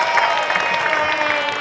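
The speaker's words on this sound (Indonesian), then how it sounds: "tepuk tangan boleh semua" Studio audience of the Indonesian dating show Take Me Out Indonesia clapping, a brief burst of dense applause with some crowd noise beneath.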